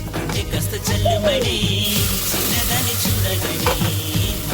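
Upma tempering crackling and sizzling in a pan, a dense continuous hiss with sharp pops and stirring scrapes, fairly loud and close, a voice faintly present.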